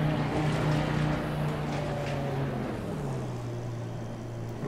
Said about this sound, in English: I'll just use the ignition to kill the engine